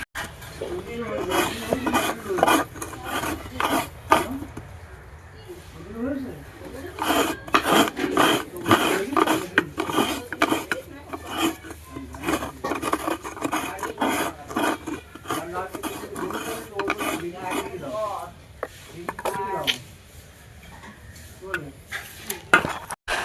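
Coconut is grated by hand for khichuri in a home kitchen, with repeated rhythmic rasping scrapes in quick strokes and brief pauses, while a voice talks intermittently over the grating.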